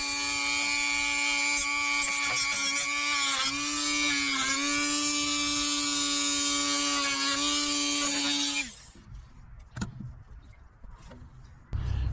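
A power tool trims frayed fiberglass ends on a vintage motorcycle tank, a steady high motor whine with brief dips as it bites, running about eight seconds before cutting off into faint clicks and handling noise.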